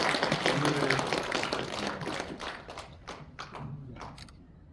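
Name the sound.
audience applause at a church general assembly closing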